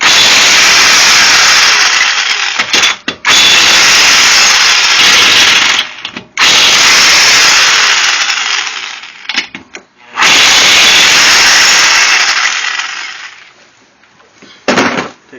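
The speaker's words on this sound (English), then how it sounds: "we're going to take our electric impact and remove these nuts" An electric impact wrench spins wheel nuts off a 2009 Hyundai Accent, loud rattling bursts lasting several seconds each, separated by short pauses, with a brief final burst near the end.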